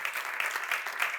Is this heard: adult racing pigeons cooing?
no